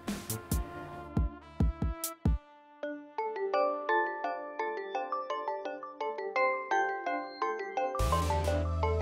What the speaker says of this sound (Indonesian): Telepon Laras, ah kangen dah dengar suaranya aja